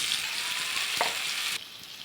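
Onion, curry leaves and tomato frying in sunflower oil, a dense close hiss of sizzling that flares briefly, then drops a little quieter near the end.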